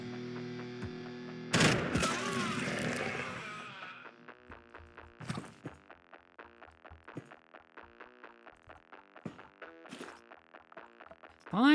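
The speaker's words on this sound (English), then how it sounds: "That's the telltale signs of someone with a poison shotgun." Poison shotgun fire in the video game Quasimorph: a loud burst of shots followed by a series of sharp, evenly spaced electronic reports over a tonal game backdrop.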